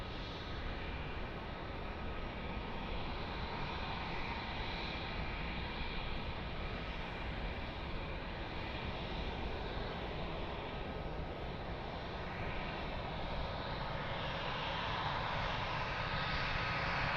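An airplane lands on runway 02 at Lisbon Airport, a steady broadband engine roar heard at a distance for the whole stretch.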